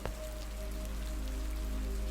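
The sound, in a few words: rain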